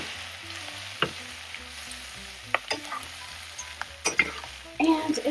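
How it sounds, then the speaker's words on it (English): Mushrooms and other ingredients are stirred in a hot pan while preparing walleye and scallops. Steady close sizzling carries sharp spoon scrapes and clinks against the pan, with a louder burst of frying near the end. "stir everything to combine."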